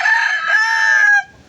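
A backyard rooster lets out one loud, close crow lasting just over a second, among a small flock of chickens, then quiet.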